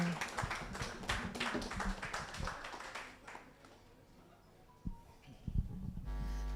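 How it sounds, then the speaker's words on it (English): Audience applause after a song at an anniversary media launch, heard as a burst of clapping that fades out over a few seconds, followed by a few scattered taps and near silence. "I think we could give a bigger round of applause"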